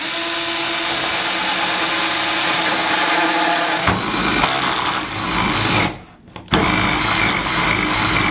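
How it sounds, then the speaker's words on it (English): Continuous whirring power drill with a 2-inch hole saw grinding through wood, a steady buzzing cut that briefly drops off and stops before starting again. "Replace your drill bit with a 2-inch door lock cutter and cut the 2-inch hole"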